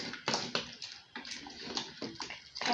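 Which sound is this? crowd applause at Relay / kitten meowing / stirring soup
stirring soup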